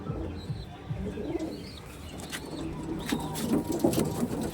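Pigeons cooing close by in soft, repeated throaty calls, with a few chirps and faint traffic in the background.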